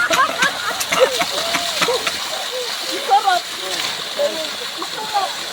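A strong stream of water splashes and gushes steadily close by, with someone talking over it in short bursts.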